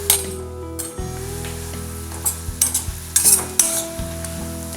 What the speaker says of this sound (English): So I'll just stir it now and allow it to cook.